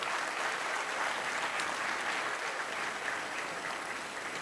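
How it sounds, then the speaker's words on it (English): Steady, dense applause from an audience at a medical college graduation day, honoring the new graduates, sustained at an even level throughout with no talking over it. "Let's have a huge round of applause for all our graduates."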